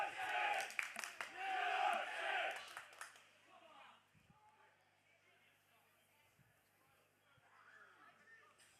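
Fans at a non-league football match between Coventry United and Coventry Sphinx chant and cheer loudly for about three seconds, then the noise drops to a quiet murmur, with a commentator speaking throughout.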